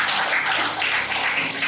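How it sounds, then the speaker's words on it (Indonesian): A church congregation at a Sunday service applauds in a dense, loud wash of many hands clapping at once, steady and close, with no talk over it. "Kasih tepuk tangan buat Tuhan."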